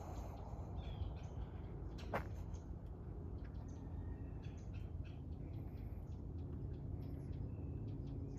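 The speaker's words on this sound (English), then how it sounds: "You could just hear the birds and the animals" Faint birds chirping and calling here and there over a steady low outdoor hum on a Florida farm, distant and sparse, with no voices.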